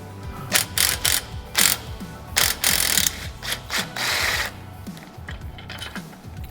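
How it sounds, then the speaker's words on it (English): A ratchet fitted with a 9/16 socket is worked in reverse to back off the shuttle on a railing tensioner, giving rapid clicking pawl bursts in uneven repeated strokes, close and loud, with no talk. "reverse your 9/16 socket and reverse the shuttle all the way back to the starting point"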